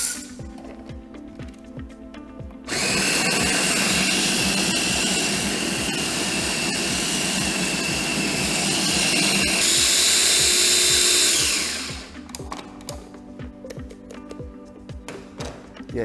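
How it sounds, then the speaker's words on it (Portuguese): Electric grinder grinding fresh coffee beans, a loud, steady high whine lasting about nine seconds that then winds down, with quieter room sounds before and after. "a gente vai moer o café na hora"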